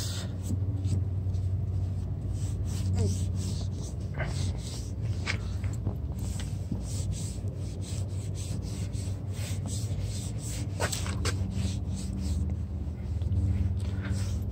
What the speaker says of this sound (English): We're just gonna apply that back and forth onto the plastic.